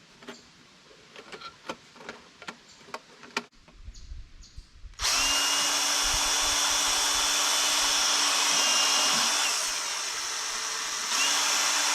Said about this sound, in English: I'm going to just drill some holes right near the lip